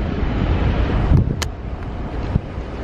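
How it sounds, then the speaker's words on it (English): Strong wind buffeting the microphone at a cruise ship dock in Nassau, a constant loud rumbling roar with a couple of faint clicks, no talking. "Oh, it's windy down here, but we are off the ship."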